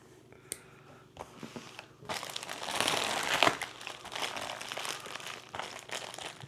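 A knife slices into a plastic shipping bag up close, with a soft rustle and tap, then a longer stretch of crinkling and tearing plastic that trails off into lighter rustling.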